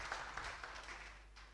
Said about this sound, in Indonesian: Kasih tepuk tangan bagi dia, come on.